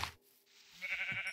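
A Minecraft sheep bleats in a modded FTB Infinity Evolved world, a short wavering baa heard close and alone, preceded by a brief game click.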